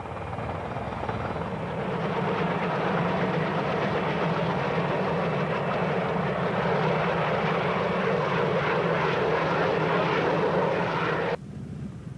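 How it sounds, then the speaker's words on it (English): A presidential helicopter flies past the Washington Monument toward the White House grounds, its rotor and turbine giving off a loud, steady, broad whine that holds for about eleven seconds before cutting off abruptly, with no talking. "A presidential helicopter carried Dr. Banda from the airport, past the Washington Monument, to the White House grounds."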